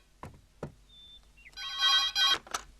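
A telephone rings in a home, a loud bright electronic ring burst following a couple of soft thumps and brief tones, then cutting off.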